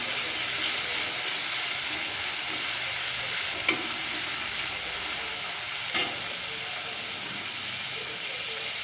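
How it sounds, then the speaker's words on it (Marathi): Onion and tomato sauté in a pan for green moong bhaji, a constant, close sizzling hiss with a couple of distinct clinks from stirring. "आता बघा कांदा थोडा लालसर व्हायला लागला आहे आणि मग मी हे टोमॅटो टाकून देते."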